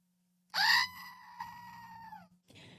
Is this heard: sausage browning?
no